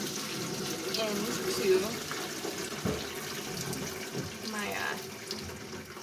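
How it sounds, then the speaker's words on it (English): Hot chicken bone broth poured slowly into a strainer or colander, a steady close splashing and trickling stream that runs for several seconds with brief bursts of splatter, while a voice talks briefly over it. "I will slowly pour it, as it splatters everywhere"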